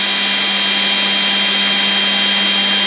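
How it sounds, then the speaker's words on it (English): A power drill bores into the base of a diecast model car, giving a continuous high-pitched motor whine that stays loud and even throughout, close up, with no talking. "Now try to keep your drill straight as possible."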